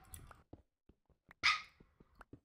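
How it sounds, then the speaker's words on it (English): A dog gives a few quiet, clipped barks and yips at a distance, with one sharper, brighter yelp in the middle, heard alone with no talking. "That's my doggy."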